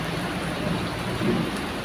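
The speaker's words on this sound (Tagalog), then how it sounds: "Mapapansin nyo, basa yung kalsada kasi nga umuulan nga." Heavy rain falling over a wet street during a downpour, a continuous, even hiss of dense drops with no break and no voices.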